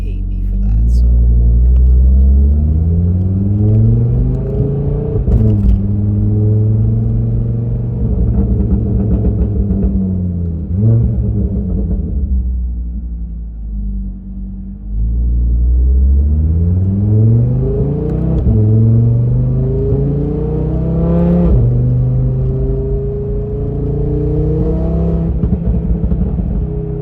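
An Audi RS3 with an AWE exhaust and Unitronic Stage 2 tune on E85 fuel revs loudly and close by, its deep engine note climbing and falling in several drawn-out sweeps with a steady rumble between them.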